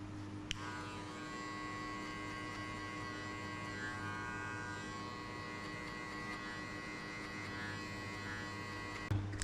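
An electric hair clipper buzzes steadily through a buzz cut, a constant close hum with a faint whine, switching on near the start and cutting off near the end.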